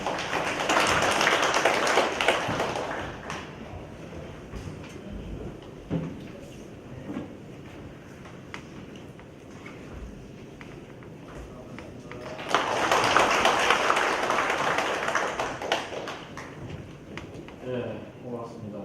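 A conference audience applauds to welcome the mayor, with a loud burst of many hands at the start. Quieter shuffling and light knocks follow, then a second strong round of clapping rises later and fades out.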